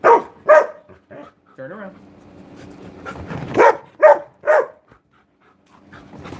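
A pet dog barks close by in short bursts, a pair at the start and three more in quick succession later, with a person talking to it in between.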